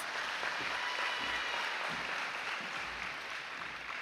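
Continuous, fairly soft applause from an audience at a high school National Honor Society induction and hooding ceremony, a steady wash of many hands clapping for about four seconds without speech.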